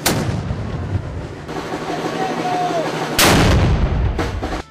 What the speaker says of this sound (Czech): Výstřely z děl potom zahájili odpoledne